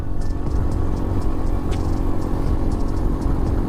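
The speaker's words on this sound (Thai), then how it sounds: "แต่เจ้าแวนแวนคันนี้ก็ต้อง ลดเกียร์ลงมาเหลือ เกียร์สองเกียร์สาม" A van engine strains uphill in low gear on a Khao Yai mountain road. It gives a steady, loud, close rumble from inside the vehicle with no pauses.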